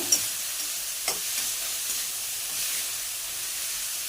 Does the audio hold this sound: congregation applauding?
no